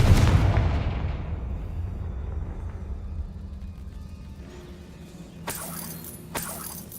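A Confringo fire spell in Hogwarts Legacy blasts with a loud, booming explosion that rumbles away over several seconds, then two sharp crackling bursts follow near the end.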